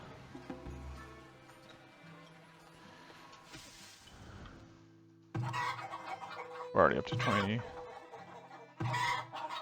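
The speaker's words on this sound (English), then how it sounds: "chicken wise we're doing quite well." Chickens cluck in the farming and survival video game Farthest Frontier, set against soft game music, with someone talking over part of it.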